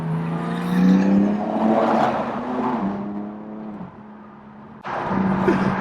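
A fast car rushes past on a highway, its engine rising and falling in pitch as it draws near and fades, then another loud whoosh cuts in near the end.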